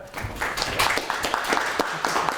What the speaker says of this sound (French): Une petite main d'applaudissement.